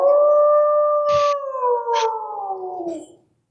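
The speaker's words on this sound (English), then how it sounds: "That howling." A dog-like howl, one long sustained wavering cry that slowly falls in pitch, loud and near. It holds for about three seconds, broken by a couple of brief bumps, then fades out.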